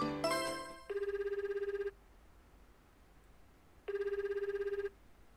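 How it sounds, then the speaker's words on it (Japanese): A telephone rings in the Tokimeki Memorial Girl's Side 3 video game. There are two clear, evenly spaced electronic ring bursts, each about a second long, with quiet pauses between them. "嵐に電話するか、じゃあ"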